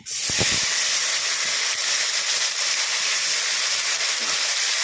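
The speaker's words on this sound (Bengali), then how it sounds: "এটা ভাজা ভাজা হলে দেবো টমেটো টমেটোটা দিয়ে দেবো" Tomato dropped into hot oil seasoned with cumin and bay leaf after frying fish, giving a loud, steady sizzling hiss that starts abruptly and continues throughout.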